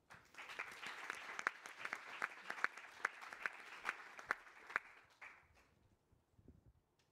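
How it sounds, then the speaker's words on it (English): Audience applause in a conference hall at a United Nations climate change event, steady clapping from a crowd lasting about five seconds before fading out. "Please give a round of applause."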